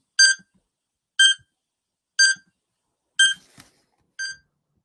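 A timer beeps five times at a steady one-second rhythm, each short bright electronic tone clear and close against silence, the last one slightly softer.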